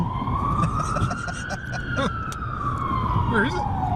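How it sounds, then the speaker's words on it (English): An ambulance siren wails loudly in a free-roam VR game, one long rising then falling sweep that stays close and clear over a dense background rumble. "That's an ambulance."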